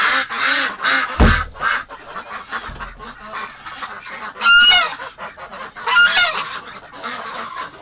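Domestic ducks and geese honk and quack in a winter yard, with a loud low thump early on and several sharp honking bursts standing out around the middle and later, amid continuous background bird chatter.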